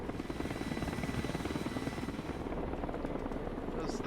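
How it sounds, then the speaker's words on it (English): Helicopter rotor chopping steadily up close in the Broken Arrow war game, a continuous loud pulsing drone with battle noise layered underneath. "I hear helicopter."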